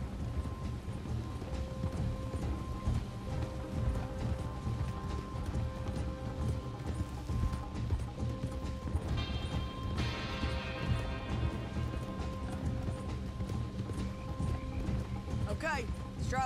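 Steady clip-clop of horses trotting in Red Dead Redemption 2, hooves beating in a continuous rhythm over ambient game sounds, with a brief whinny near the end.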